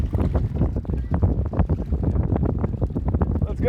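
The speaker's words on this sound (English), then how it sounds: "It's a good gust right now." Strong gusty wind batters the microphone aboard a small single-handed sailboat in high winds, loud irregular buffeting rumbles in quick bursts throughout.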